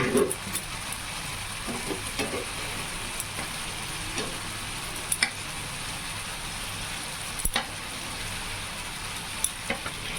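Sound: spices frying in oil while cooking fish cutlets

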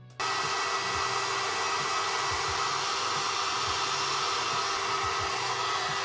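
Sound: hair dryer blowing hair

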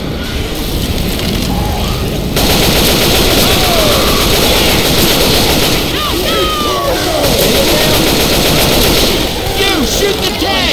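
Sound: gunfire shooting a Tank in Left 4 Dead 2 video game

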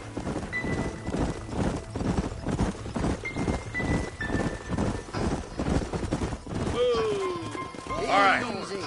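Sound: horses trotting in video game

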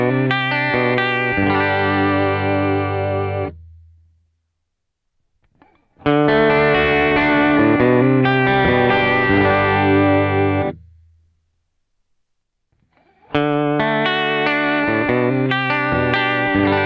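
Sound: guitar vibrato effect from Kemper and H2O pedal

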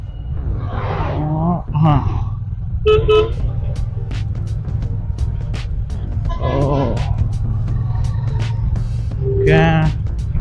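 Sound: heavy road traffic with car horns honking

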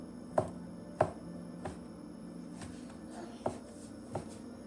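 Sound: knife slicing a shiitake mushroom

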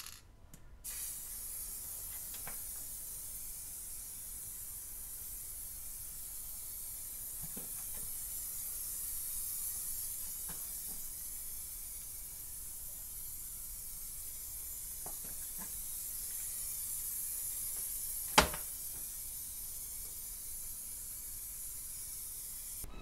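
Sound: Rustoleum frosted glass spray paint being sprayed

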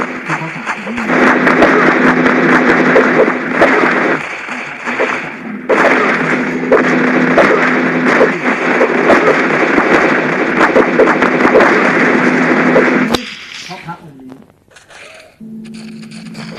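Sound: gunfire in the video game SAS 4

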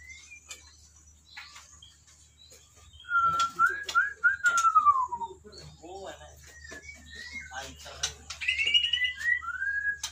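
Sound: white-rumped shama birds singing

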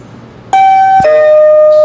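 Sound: doorbell chime from a motion sensor alarm

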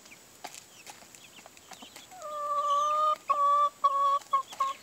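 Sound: hen clucking

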